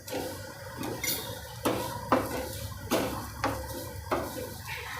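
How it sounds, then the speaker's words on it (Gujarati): Vermicelli sev roasting in ghee in a pan, stirred with a spatula that scrapes and clinks against the metal in repeated strokes about once a second, close and fairly quiet, with no voices. "હવે આપણે આ ઘી ગરમ થઈ જાય પછી એમાં સેવ નાખી દઈશું હવે એને આપણે શેકી લેવા"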